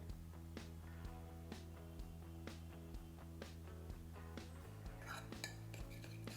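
A spoon stirs a tablespoon each of honey and almond oil together in a small bowl, giving repeated light, evenly spaced clinks against the bowl over a steady tonal background hum.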